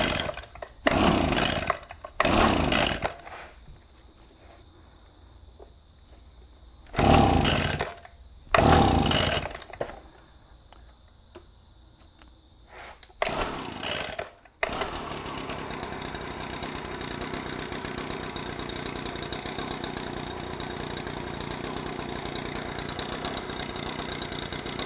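An Echo backpack leaf blower is pull-started, with several short bursts of the small two-stroke engine sputtering and dying between quiet gaps. It then catches and settles into a steady, close, loud idle.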